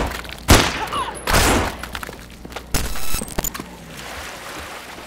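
Gunfire in the zombie survival game No More Room In Hell: sharp, loud broadband shots in a few separate bursts, the heaviest near the start and middle, over a low noisy background.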